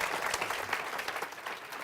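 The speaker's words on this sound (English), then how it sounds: "Please give them a round of applause." An audience at a panel event on antimicrobial resistance gives a brief, steady round of applause, moderately loud and heard alone.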